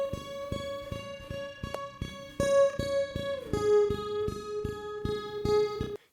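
A lead guitar treated with reverb, a doubling effect and EQ plays a quick run of evenly repeated picked notes over a sustained ringing tone. It is fairly soft and played alone, with no voices.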